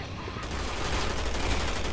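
Rapid, dense gunfire from a butterfly enemy in Resident Evil 6 crackles as a continuous loud volley, growing stronger partway through.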